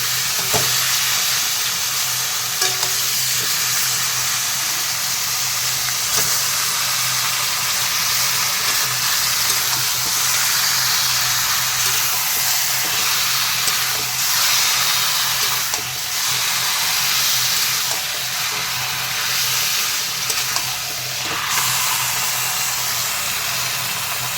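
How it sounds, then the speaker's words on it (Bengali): Boiled, drained taro leaves being stirred into a pan of fried hilsa fish heads, giving a steady, loud hiss and sizzle that runs throughout with faint scraping stirs, close up and with no talking. "এখন কচুর শাকটা দিয়ে তারপরে ভালো করে নাড়তে থাকবো।"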